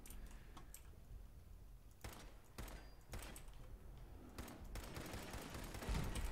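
Turret gunfire in Fallout 4 rattles out in several sharp bursts against a steady background hum, with broadband cracks spaced irregularly across the stretch.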